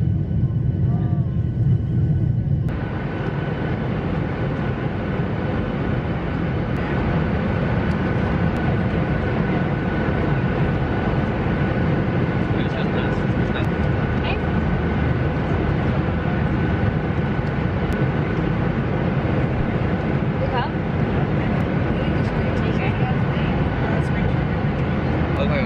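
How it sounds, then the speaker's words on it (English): Steady, loud engine roar and cabin drone inside a nearly empty airliner, a continuous broadband hum running throughout, with people talking quietly over it. "we just got onto the plane and there's literally like no one on this plane"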